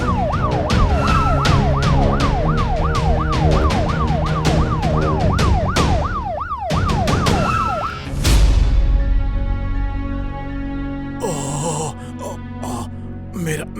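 Cartoon ambulance siren wailing loud and steady with a rapid rising-falling pattern for about eight seconds, then fading as other busy sound effects take over.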